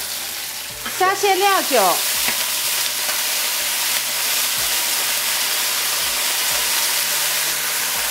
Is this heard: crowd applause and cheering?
no